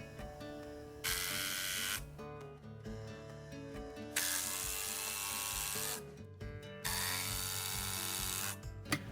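Power drill driving screws into a timber wall frame under a staircase, in three long whirring bursts separated by brief pauses, close and steady with no talk.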